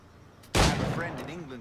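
A single sharp gunshot cracks out loud at a shooting target in Assassin's Creed IV: Black Flag, a sudden burst followed by a short decaying tail with faint game sounds beneath.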